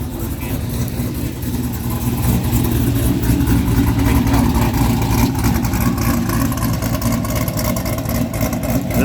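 A 1957 Chevy engine rumbles steadily at an outdoor car show, a loud, continuous low throb with slight swells, as if idling or lightly revved close by.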